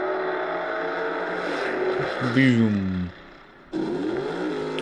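No-prep drag race cars launching hard enough to smoke the tires, a loud engine roar that rises in pitch, drops out briefly, then resumes, with someone talking over it.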